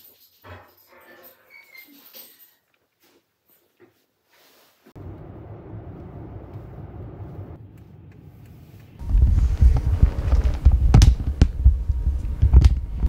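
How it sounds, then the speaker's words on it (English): A room heater runs indoors, starting as a low steady hum after a quiet stretch and then swelling into a louder, rougher whooshing rumble with faint thumps, with no voices over it. "I'm sorry if you can hear my heater in the background."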